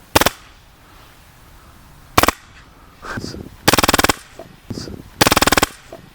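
A powerful air pistol fires rapid strings of rounds in several short, sharp bursts, loud and close, separated by quieter gaps.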